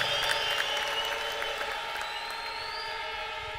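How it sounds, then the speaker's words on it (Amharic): A church congregation claps steadily while high, shrill ululation trills above the applause, loud and crowded at first and then easing slightly as it continues. "ይህንን እልልታ ጭብጨባ በደንብ አድርገን ጨምረን ለናዝሬቱ ለኢየሱስ እናምጣለን።"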